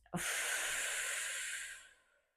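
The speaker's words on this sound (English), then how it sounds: "let's take that lovely big deep inhale. And then exhale through the mouth." One long breath out through the mouth during a beginner workout, a close, breathy hiss that starts abruptly, holds steady for over a second, then fades away into silence, with no talk over it.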